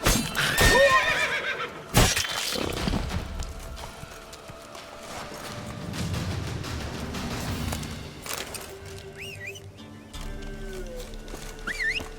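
Roach, the horse from The Witcher 3, whinnies loudly near the start, then hooves clip-clop and game sounds carry on, with a few sharp tonal effects near the end.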